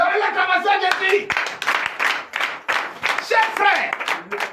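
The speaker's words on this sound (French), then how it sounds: "Donnez l'acclamation à Jésus." A congregation claps together at a night prayer service in Benin, a fast burst of hand claps that comes first and then carries on beneath a preacher's loud voice.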